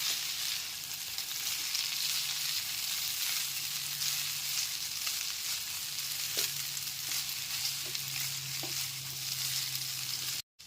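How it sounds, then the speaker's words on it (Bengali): Boiled chow mein noodles being stir-fried and mixed with vegetables for egg chow mein, giving a steady close sizzle with a few scattered stirring clicks and an abrupt stop at the end. "সেদ্ধ করে রাখা চাউমিনগুলো দেওয়ার পর সবজির সাথে খুব ভালো মতো মিশিয়ে নিচ্ছি"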